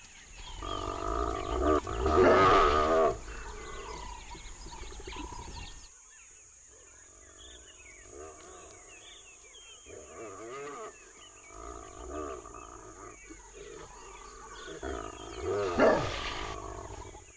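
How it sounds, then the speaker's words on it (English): African wild dogs in the bush work themselves up before a hunt with a mix of yelps, twittering calls and growly vocalizations, moderately loud at first, then a quieter stretch, then rising again, with constant insect noise in the background. "Wild dogs are in the area. It's a pre-hunt ritual for them, pumping themselves up for a kill"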